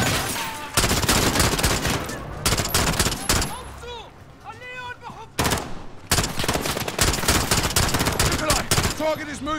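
Rapid bursts of automatic gunfire in the Call of Duty: Modern Warfare campaign, loud and dense, repeating in volleys with brief pauses while voices talk over the shooting.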